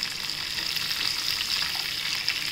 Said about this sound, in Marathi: आता आपण हे कारलं चांगलं तेलात परतून घेऊया।